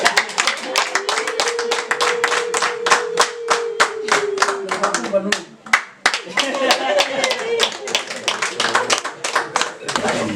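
Sustained hand clapping from a wedding audience during a legal marriage and bride-request ceremony, dense and steady for about ten seconds with a brief dip midway. A voice talks and vocalises over the clapping.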